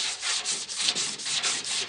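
Sandpaper wrapped around a dowel rubs across the door skin of a 1967 Mustang in steady back-and-forth strokes, close and rasping, roughly nine even passes with no talking.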